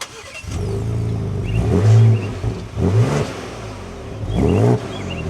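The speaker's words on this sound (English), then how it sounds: "we can start this up and take a listen to that active exhaust" A 2025 Ford Ranger Raptor pickup truck starts up with its active exhaust, firing with a loud bark and then blipping through several sharp revs that rise and fall near the microphone.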